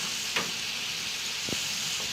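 Potatoes frying in hot oil give a steady, fairly loud sizzling hiss throughout, broken by a few soft clicks and clatters, with no talk.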